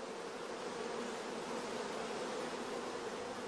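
Loud, steady buzzing of queenless orphan honey bees in a starter colony, a dense continuous drone filling the whole stretch without pause, close and alone with no voices.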